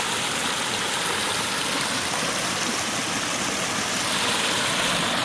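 The stream at the Chatfield Memorial Shelter water source on the Appalachian Trail rushes in a steady, close, loud splashing hiss that never lets up, with no voices.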